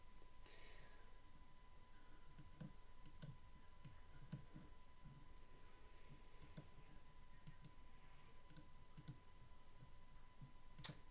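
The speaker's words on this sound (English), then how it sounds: "Sorry if my clicking's really loud" Faint, sparse computer mouse clicks tick irregularly through a quiet room with a steady electronic hum, and a voice talks softly in the background.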